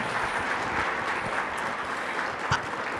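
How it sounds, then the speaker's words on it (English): An audience at a national tech education conference applauds, with dense, steady clapping filling the room throughout and no talking over it. "Let's give him another round of applause."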